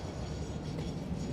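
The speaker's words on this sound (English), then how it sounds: "I think I'm going to jump back on the train here." A train in the video game Satisfactory rumbles along steadily, a low continuous rolling drone with faint rail clatter, close and even in level, no voices.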